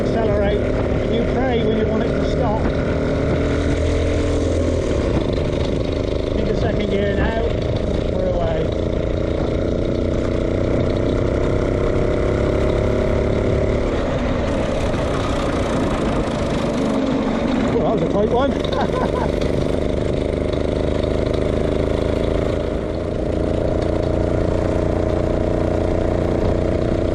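A vintage motorcycle engine drones continuously during a group ride, a steady low mid-pitched hum heard beneath someone talking for much of the time.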